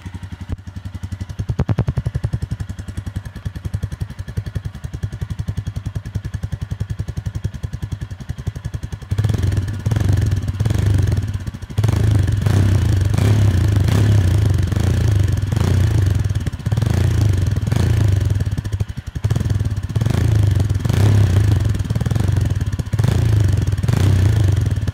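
Exhaust of a Royal Enfield Himalayan 411 motorcycle with a stock muffler, recorded close up: a steady low idle thump that grows louder partway through as the engine is revved in rising and falling surges.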